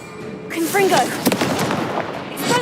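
Confringo fire-blast spell from Hogwarts Legacy bursting with a sharp crackling blast amid layered magical effects, a short burst of spell sound that carries on loud for about two seconds, with a voice calling out over it.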